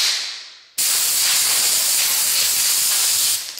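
High-pressure compressed air, from a compressor topping out at 135, bursts abruptly into a loud, steady hiss through an RV propane quick connect and holds for a few seconds before tapering slightly.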